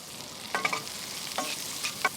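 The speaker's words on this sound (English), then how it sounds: "we fry the fennel and the onion very gently" Fennel and summer leek frying gently in butter in a pan, a soft steady sizzle with a few clinks of stirring, close and quiet with no talk.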